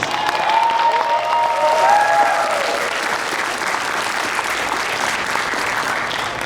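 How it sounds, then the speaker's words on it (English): Steady, loud applause from an audience at an anime convention panel, sustained crowd clapping throughout with a faint whistle or cheer early on. "Let's give a round of applause."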